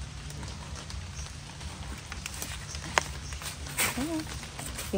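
Steady rain falling in a forest during mushroom foraging, a soft continuous patter filling the background, with a brief sharp tap near the middle and a short faint voice or call toward the end.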